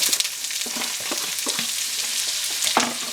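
Onions frying in bacon grease, a close, steady sizzle with occasional scraping stirs of a utensil in the pan, with no talking.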